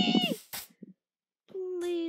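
A cat in Minecraft gives a couple of short meows, sharp and close, separated by brief silences, with a voice speaking over part of it.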